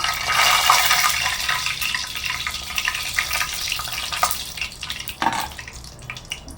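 Dry red chillies fry in hot oil left in a wok from frying paneer, a loud rushing sizzle that gradually settles, broken by a few clattering knocks, with no voices.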